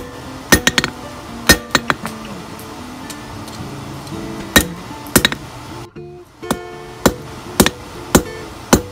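A hammer strikes a forged steel shaft on an anvil to re-round it, giving sharp ringing metallic clinks in irregular bursts of one to three blows with short pauses between them.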